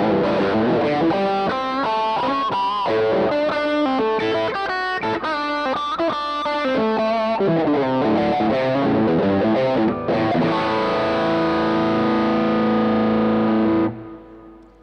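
Electric guitar played through a Tomsline Shaper pedal's 2x12 Roland Jazz Chorus 120 simulation, a clean, shimmering, chorused tone with strummed chords and melodic lines ringing steadily, then fading out at the end.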